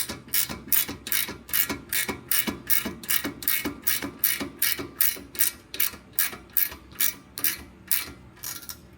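Repeated ratchet clicks while bolts are tightened on a Mercedes 300E 3.4 AMG during a suspension overhaul, a steady rhythmic series of close, loud pawl bursts with no talking.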